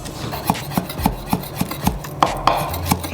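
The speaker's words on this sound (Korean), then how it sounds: "이렇게 다 되셨으면 칼질을 한 번 더 이렇게 듬성듬성" Knife chopping through rolled, stacked parsley on a board in a steady rhythm of crisp taps, about two per second, close up with no talking.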